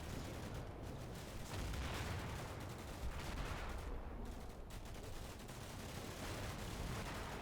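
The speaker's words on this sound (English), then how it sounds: "Another mortar round." A mortar round explodes in the Combat Mission: Black Sea war game, lost inside a steady, dense roar of battle noise and gunfire that fills the whole stretch without a single standout boom.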